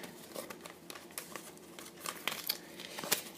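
Paper being folded and creased into an origami rectangular gift box, soft crinkling and sharp little crackles as folds are pressed, close and quiet, with no talking.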